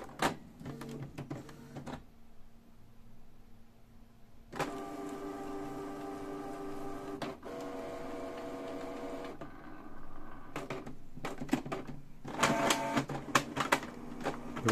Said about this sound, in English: We see that the printer did not take paper.